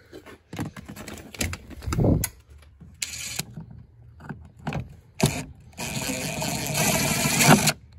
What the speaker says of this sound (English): Let's get the screwdriver in there again.